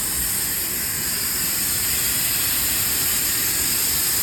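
Steam hisses steadily out of a subway vent, a loud, continuous broadband rush with no breaks.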